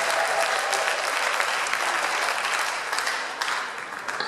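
A church congregation at an evangelism day claps and cheers in praise, a dense, loud, continuous wash of applause that rises and falls slightly over a few seconds with no clear speech.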